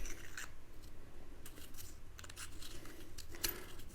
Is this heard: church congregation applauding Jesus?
no